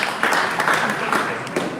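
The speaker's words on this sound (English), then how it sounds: "A round of applause again, please." Audience applause at an evening convention session: a short, continuous wash of many hands clapping at fairly strong, even level, with faint crowd murmur beneath.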